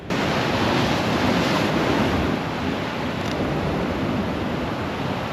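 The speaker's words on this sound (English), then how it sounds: "when the waves crash up, that's my moment" Storm waves crash against Dorset's Jurassic Coast in a dense, steady roar of surf, loud and close, with wind buffeting the microphone throughout and no voices.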